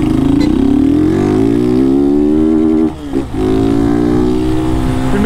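Car fitted with a can-style exhaust with the filter removed, revving in a rising, wavering clutch-played melody, loud and close, with a brief dip around the middle.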